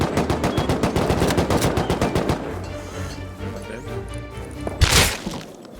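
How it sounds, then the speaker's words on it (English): Rapid bursts of AK rifle fire in the survival game Rust, a fast rattling string of loud close shots that thins into scattered reports, with one sharp crack near the end. "Oh, I'm getting AK'd."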